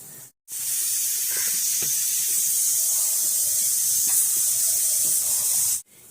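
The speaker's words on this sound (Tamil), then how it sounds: "அதில் கொட்டி நம்ம ரவையை நல்லா வறுத்துக்கலாம்" Semolina (rava) roasting in a pan on the stove for sugar kesari, a steady loud hiss with faint scraping taps, running nearly uninterrupted and cutting off abruptly at the end.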